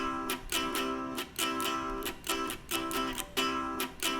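Basic acoustic guitar strumming pattern on a chord, steady repeated down-up strums with regular accents, played alone and fairly close with no talking.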